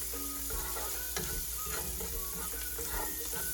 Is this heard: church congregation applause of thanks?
no